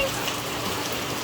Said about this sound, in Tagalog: Ang lakas pa rin ng ulan.